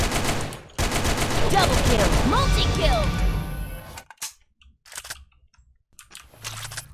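AK47 rifle fire in the online shooter Sudden Attack, a loud sustained automatic burst lasting several seconds before cutting off, followed by scattered quieter game sounds and short bits of voice.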